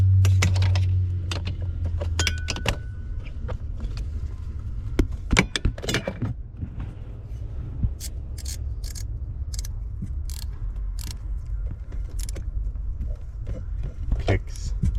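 Torque wrench on a Hyundai Sonata giving sharp metallic clicks and pre-clicks as bolts are tightened, irregular bursts of close ticking and rattling, with a voice speaking at times.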